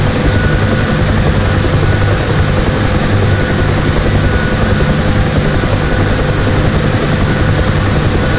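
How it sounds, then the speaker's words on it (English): A UH-1 Huey helicopter holds a low hover in DCS World, its loud, steady rotor chop and turbine roar filling the sound without pause. "I will now bring the helicopter to a low altitude hover as demonstrated in the pickup lesson."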